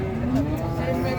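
A Simmental cow gives a short, close moo at the Jetis Ponorogo cattle market, one brief low call amid market bustle.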